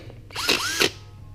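A power drill with a drill bit whirs briefly while cleaning up the centers of a new, already bent wheel on a workbench, rising in pitch between two short harsh grinding bursts, close and loud with no talk.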